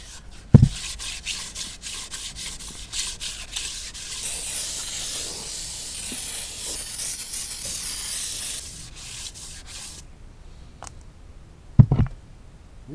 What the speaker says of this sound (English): Nothing real aggressive. I'm just trying to get the rust off of it.